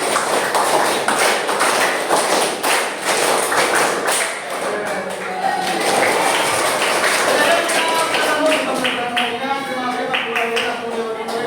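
A group of people clapping in rhythm during a classroom counting game, sharp repeated claps in quick patterned bursts, loud and close, with voices talking and chanting among the claps.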